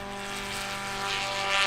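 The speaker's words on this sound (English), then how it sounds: "And Stephen Hewitt, let's listen to his engine." Engine roar from Stephen Hewitt's plane during a rookie-class pass at Wayne 2023, a steady propeller drone with strong harmonics that swells louder toward the end.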